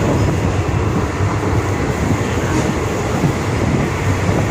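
Inside a third-class train travelling through Thailand by day in the cool season, a continuous rumble and rattle of the moving carriage runs steadily throughout, with no speech.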